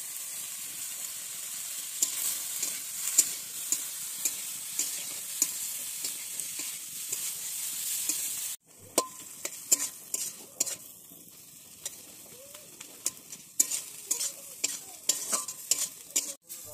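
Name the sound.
frying spices with dried chillies in a pan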